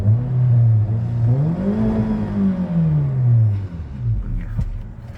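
A Honda HR-V with a CVT, 15-inch wheels, a large exhaust tip and a tune for S95 fuel accelerates on the road, its engine note climbing and then easing off, close and steady, with no talking.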